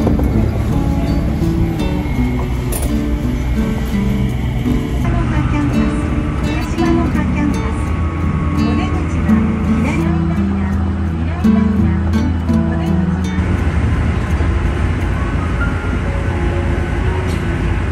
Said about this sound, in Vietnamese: Tàu vừa đóng cửa luôn này.